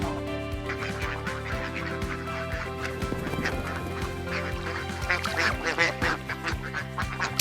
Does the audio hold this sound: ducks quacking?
yes